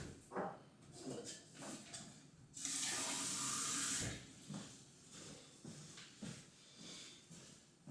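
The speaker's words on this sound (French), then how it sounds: "je vais aller me remplir un petit verre d'eau" Water from a tap pours into a drinking glass for about a second and a half, a bright rushing hiss set between quieter handling clatter before and after.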